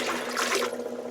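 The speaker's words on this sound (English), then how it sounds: "this right here will help purge the water back out" Water pushed out of an ITEHIL RO water purifier, a steady broadband rushing and splashing flow that stays fairly loud and even throughout, with no talk.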